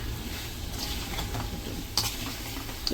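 Fried prawns being tossed and stir-fried in sauce in a pan give off a steady, close sizzle with soft scraping stirs and a brief clatter near the end.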